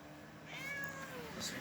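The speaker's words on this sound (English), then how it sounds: "I think I know why you're meowing." A cat meows in a short drawn-out call, faint and indoors, with a brief second cry near the end and a soft voice in the background.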